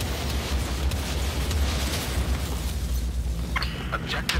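Deep, rumbling in-game explosions in Battlefield 4 with low booms and crackling bursts, a dense battle din running throughout, with a few sharp pops near the end.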